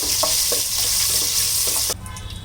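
Cashews and raisins frying in hot oil in a pan for pulao, a steady close sizzle with soft stirring scrapes throughout, dropping off abruptly near the end.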